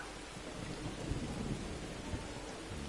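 Steady rain hisses over a low, continuous rumble of thunder in a Scotland rally racing video game, with no voices present.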